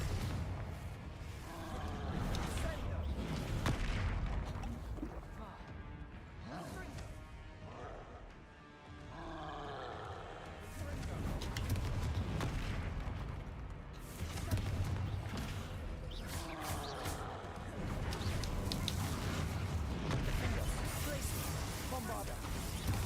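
Confringo blasting-spell explosions in a Harry Potter video game, repeated crashing bursts alongside other spell blasts, loud and frequent, with a voice shouting spell names over the action.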